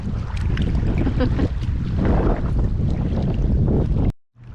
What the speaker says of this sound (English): Forgot it's windy out here.